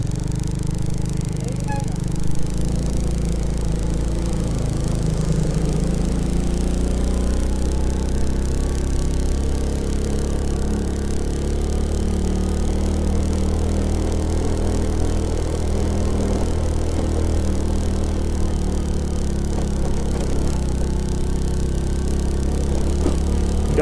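A motorcycle engine labors steadily on a steep mountain road in Benguet, a constant loud low drone with rattling, holding throughout with no clear talk over it.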